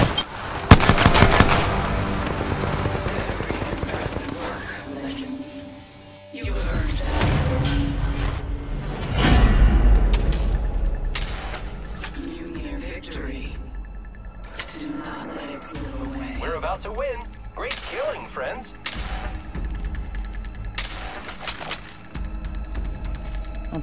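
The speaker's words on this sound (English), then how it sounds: "The enemies are shooting at me." Rapid automatic gunfire from enemies in the Apex Legends battle royale game, with bursts and sustained volleys over about twenty seconds, loud and close, mixed with explosions and mechanical clatter.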